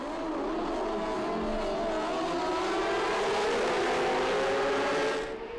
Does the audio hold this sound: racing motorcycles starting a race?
yes